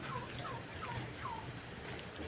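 A turkey gobbles in a quick repeated series of four descending warbling calls, fairly faint and a little distant over a low background hum, with no talking.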